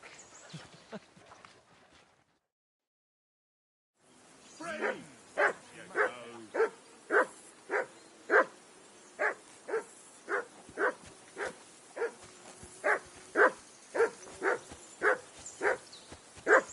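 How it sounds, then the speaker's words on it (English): A dog barks repeatedly by a riverbank camp in the video game Kingdom Come Deliverance 2, giving steady evenly spaced barks at moderate distance after a short silence, with faint talk at the start. "Whistle at that mutt of yours to stop barking!"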